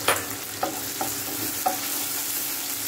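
Sliced onion rings fry in hot oil in a pan for baby corn chilli, a steady close sizzle broken by a few soft stirring scrapes, with no talking.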